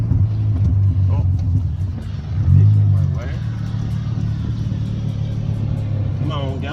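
VR6 car engine pulling along the road, a steady low drone that swells briefly as it revs, heard alongside someone speaking throughout.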